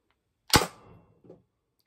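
A single sharp pop from a Tippmann TMC paintball marker firing one shot close by, with a brief decaying tail and a faint second knock just after.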